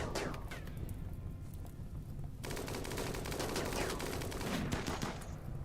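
Gunfire from a firefight in the RimWorld colony video game, sustained bursts of rapid shots that crackle continuously at a low, distant level.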